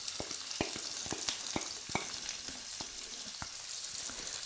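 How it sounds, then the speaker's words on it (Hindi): One medium onion frying in oil in a pan gives a steady, close sizzle with scattered sharp crackles and pops throughout. "अब इसके बाद हम इसमें डालेंगे 1 मीडियम साइज़ की प्याज।"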